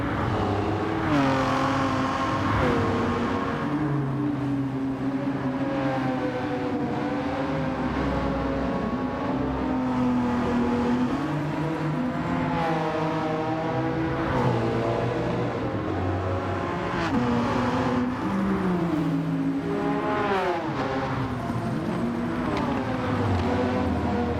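A Porsche 996 race car engine in Gran Turismo 7 revs up and down repeatedly, a loud continuous whine rising and falling with each gear.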